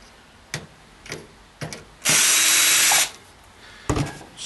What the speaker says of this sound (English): Get your cordless drill with a Phillips head.